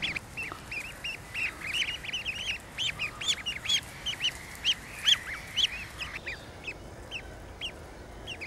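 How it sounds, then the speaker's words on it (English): High, thin peeping calls from one-day-old barnacle goose goslings, many overlapping chirps in a steady busy chorus, close by and fairly loud. "They are barnacle geese and they are now 1 day old."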